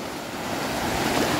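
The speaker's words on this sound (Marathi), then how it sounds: "आणि या साईडिक तुम्ही बघू शकता धबधबो तयार झालेलो हा." Water spills over a lake's overflow, forming a high-pressure waterfall: a loud, steady, broadband rushing roar close to the microphone, with no voices.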